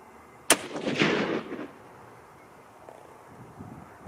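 A single sharp report from a Browning BBR bolt-action rifle in 25-06 Remington, shooting at a 100-yard target outdoors, with a loud crack followed by a rolling echo that fades over a second or so, plus light wind noise.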